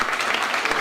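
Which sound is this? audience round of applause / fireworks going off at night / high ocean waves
audience round of applause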